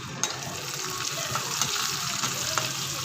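Dried red and green chilies fry in a pan with a steady close sizzle, broken by occasional sharp crackles and pops.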